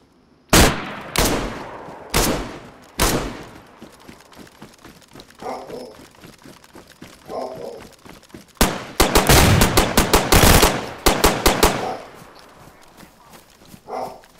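Gunfire in the survival game DayZ, with loud single shots at spaced intervals, quieter shuffling in between, then a rapid dense volley of shots, close and sharp.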